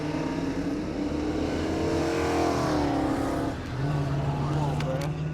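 Engines rumble and rev at an Atlanta car meet, with several cars droning at once and a rising rev near the end, while people talk over the crowd noise.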